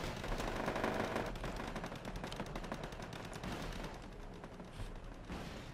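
Dense, continuous infantry gunfire from a Wargame Red Dragon battle between flamethrower troops and US Marines, rapid overlapping bursts and cracks rolling on without pause throughout.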